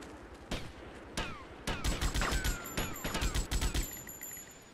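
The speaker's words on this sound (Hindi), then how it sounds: "ओ तेरी गोलियां चल रही हैं," Gunfire in GTA Vice City: a run of sharp shots starts sparse, then builds into rapid overlapping bursts before breaking off, with ricochet-like whines between the shots.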